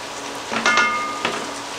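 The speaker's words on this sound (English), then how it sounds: "Once your mushrooms begin to brown, you're going to add your shallots" Mushrooms and shallots fry in a pan for chicken marsala, a soft steady sizzle with a couple of brief louder crackling bursts as food is stirred or added.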